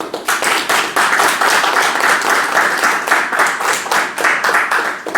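Loud, close, steady applause from an audience at a literary award ceremony for an Asturian-language microfiction contest, dense clapping sustained throughout with slight swells.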